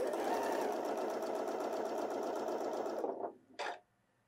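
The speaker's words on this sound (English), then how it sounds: "we're going to sew a line of basting" A Janome sewing machine stitches a long basting line in one steady, close, continuous run of about three seconds, then slows, stops and gives a short final whir.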